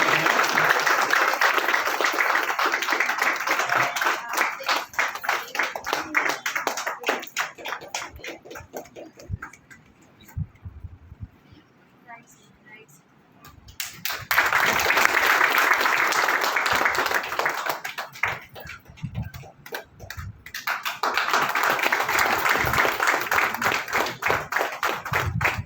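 Audience applause at a traders' function honouring a police official in Uttar Pradesh: sustained clapping in two loud bursts separated by a quieter lull, with some voices mixed in.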